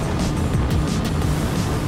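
Loud, steady roar of motorboat engines at about 5,000 RPM on a Rame R10 yacht, with rushing water noise, holding constant throughout a short stretch.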